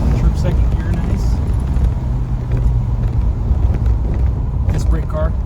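A 1969 Dodge Charger R/T engine rumbles low and steady while driving and shifting into second gear, heard close beneath a voice.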